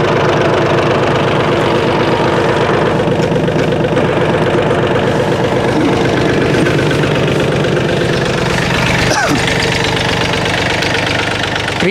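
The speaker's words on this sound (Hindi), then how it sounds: "ट्रैक्टर चालू खड़ा है और आरपीएम है 1000" A Mahindra OJA 2127 tractor runs in creeper gear at about 1000 rpm, its diesel engine chugging steadily and loudly up close with a constant knocking rhythm, alone with no voices.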